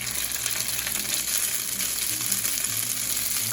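Steady, loud sizzling of spaghetti frying in a hot pan with chili peppers, continuous and close, with a faint low hum underneath.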